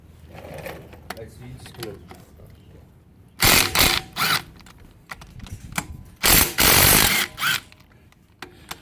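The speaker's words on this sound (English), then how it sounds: "14 millimeter socket and break these 4 bolts loose." A ratchet with a 14 mm socket breaks loose the rear wheel bolts on a Yamaha 650 V-Star motorcycle in a garage, with two loud bursts of rapid ratcheting clicks close up between quieter stretches.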